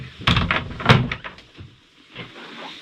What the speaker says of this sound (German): Die Tür zu. Tür wieder zu.